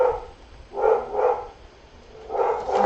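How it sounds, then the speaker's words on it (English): A dog barks in a few close, loud bursts indoors, two quick barks, a pause, then another pair, with no talking. "Sorry for the dog."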